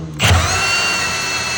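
A power drill spins a hole saw against wood, starting with a sharp bite and then settling into a steady, loud whirring grind that holds for the rest of the moment, with no talking.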